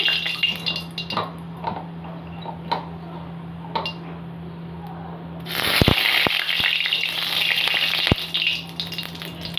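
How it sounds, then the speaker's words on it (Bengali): Nigella seeds tempering in hot oil: a low hum and faint clinks at first, then a sudden loud sizzle bursts up and continues crackling with a few sharp pan knocks. "তেলটা গরম হয়ে গেছে তো আমি এর মধ্যে একটু কালো জিরে ফোড়ন দিয়ে দেবো"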